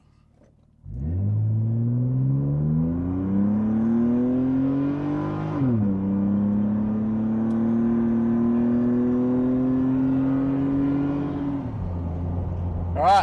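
A 1998 Nissan R34 Skyline 25GT coupe accelerates hard from a rolling start, engine note climbing steadily through one gear, dropping at a shift, then rising again for a long pull before easing off.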